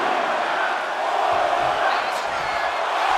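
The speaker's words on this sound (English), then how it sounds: "Undertaker's looking to the crowd for some support." An arena crowd in the wrestling video game WWE 2K25 roars loudly and steadily, with whoops and cheers blending into a dense, sustained wall of noise.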